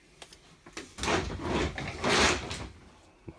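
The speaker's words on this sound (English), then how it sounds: "Most of these drawers are indeed locked." Drawers in an old RV parked at a folk art junkyard are tugged and rattled a few times, giving short scraping and knocking sounds, close and fairly quiet.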